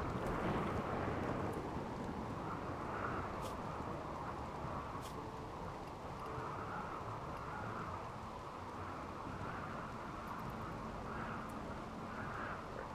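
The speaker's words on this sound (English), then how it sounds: "Oh no, that storm." Storm ambience from the video game RimWorld: a steady, dense roar of wind and rain-like noise with faint low rumbles, continuous and fairly loud across the whole stretch, no voices.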